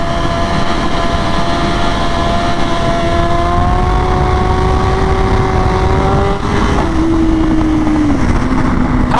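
A motorcycle engine roars loud and close with a steady sustained drone while riding wheelies, its pitch holding and then dropping as the throttle eases near the end, with wind rush throughout.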